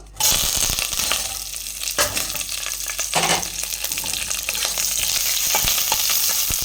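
Onion, cinnamon stick, cloves, cardamom and green chillies fry in hot oil for mutton gravy. A loud, close sizzle starts abruptly and runs throughout, with occasional stirring scrapes and crackles. No voices are heard.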